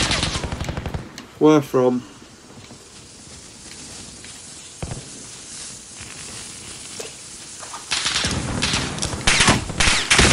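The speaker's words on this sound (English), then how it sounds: "someone's shooting at me already" Gunfire crackles in a Call of Duty Warzone Plunder match: bursts of rapid shots open the scene, a lone crack lands midway, and dense volleys return at the end, with a brief spoken question early on.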